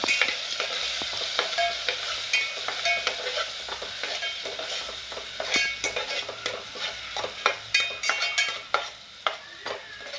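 Crab curry sizzling in a pan while Malvani masala is stirred in, with continuous frying hiss and frequent scraping clicks of a spoon against the metal.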